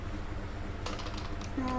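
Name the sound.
typing on a new computer keyboard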